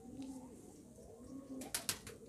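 A female pigeon sitting on eggs gives low, repeated cooing calls close by, soft rolling tones with a few sharper bursts toward the end, no voices.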